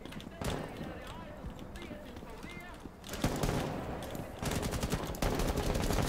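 Gunfire in the tactical shooter Rainbow Six Siege comes as bursts of sharp, rapid shots and loud impacts over a busy game mix, with a player's voice talking over it.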